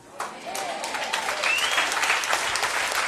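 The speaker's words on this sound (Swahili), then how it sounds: "Unajua kwa nini unapiga makofi?" An audience at a church gathering breaks into loud, sustained clapping that swells and holds steady, with a voice speaking over it.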